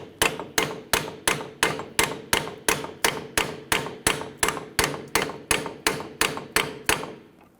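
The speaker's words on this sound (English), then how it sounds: "go ahead and tap that bolt through" Hammer taps a bolt through the steering knuckle of a 2011-2021 Jeep Grand Cherokee, about eighteen sharp, evenly spaced metallic blows close by, each ringing briefly before the next.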